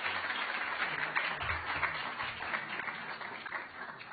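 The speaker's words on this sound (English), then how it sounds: "Another round of applause for" An audience applauds at a community Sunday seminar, with a steady, dense patter of many hands clapping, moderately quiet and continuous throughout.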